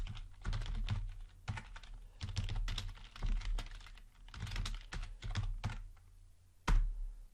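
A switch configuration command for an HPE Aruba 2920 goes in on a computer keyboard as bursts of close, crisp key clicks in uneven runs, with brief pauses and a final heavier keystroke, no voices.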